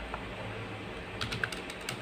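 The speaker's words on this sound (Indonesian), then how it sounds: "kita ketikkan" A few quick keystrokes on a computer keyboard entering a ping command into a terminal while checking network routers, soft and close, over a steady room hum.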